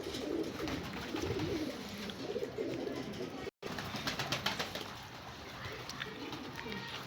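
Pigeons coo softly on a rooftop loft, faint low calls repeating under steady background noise with a brief dropout midway.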